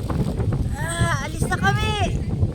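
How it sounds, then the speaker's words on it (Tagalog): Strong wind gusts buffet the microphone at a park on a drizzly day, a constant low roar beneath a person talking. "Oh, lakas ng hangin."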